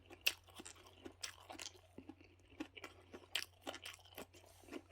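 Someone bites and chews whole gwamegi, oily dried Pacific saury, close up, giving a run of soft crunches and wet chewing sounds in irregular bursts with no talk.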